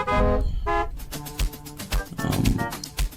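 A bright, brassy synth horn preset plays short stabbing notes in a steady rhythm, with drums and other instruments underneath.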